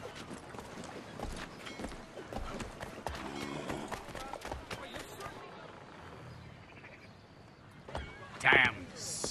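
Horse hooves clip-clop steadily at a moderate distance beneath ongoing talk in the video game Assassin's Creed III, with a brief sharp high sound near the end.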